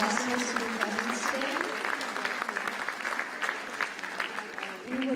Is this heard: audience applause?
yes